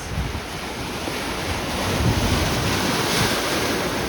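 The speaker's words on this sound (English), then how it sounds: "the wind coming off the lake is really making things cooler" Wind blowing steadily off the lake at a Scarborough shoreline park, a loud continuous rush and buffeting against the microphone with a surf-like wash and no voices.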